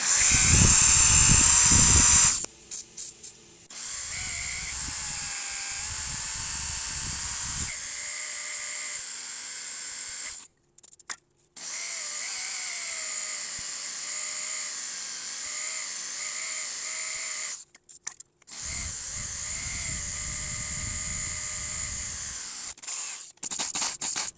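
A high-pitched electric drill whines steadily in several long bursts, stopping briefly between runs, close and fairly loud, during an LED fog light install on a Subaru Impreza.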